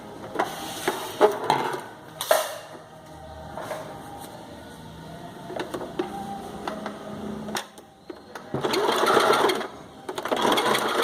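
Home sewing machine stitching through a padded bikini with full foam cups, a steady mechanical whir in short bursts and longer runs, close and moderately loud, with small handling clicks between passes.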